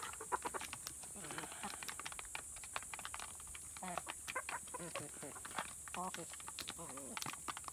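Rhode Island cross Black Australorp chickens cluck faintly in short, scattered calls, mixed with tapping pecks and a steady high background hum.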